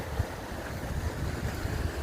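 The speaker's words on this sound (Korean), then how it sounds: "계곡의 물소리" Rushing stream water in a snowy mountain valley on Deogyusan in winter, a steady broadband wash with low gurgling, continuous and fairly near for the whole stretch, with no voices.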